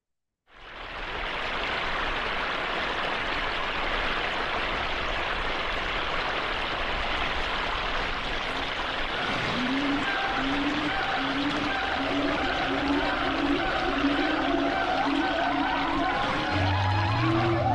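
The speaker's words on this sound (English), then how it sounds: "If you ask for a waterfall in Thailand, you might come up with a mix like this one." An AI-generated soundscape of a Thailand waterfall: a dense, constant rush of falling water begins abruptly and holds steady and loud, with faint pulsing tonal calls layered in partway through and a low hum near the end.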